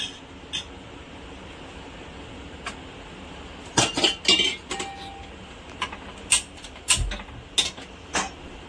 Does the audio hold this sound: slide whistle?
no